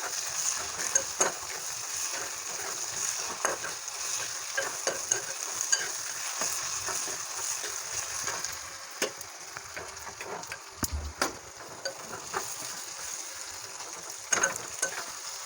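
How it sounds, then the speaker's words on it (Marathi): Garlic and ginger frying in a pan for egg curry, a steady soft sizzle with scattered spatula scrapes and clicks against the pan, heard alone and fairly close. "दोन ते तीन मिनटं आपण अद्रक लसूणचा पण कच्चेपणा निघून काहीपर्यंत भाजून घ्यायचं आहे"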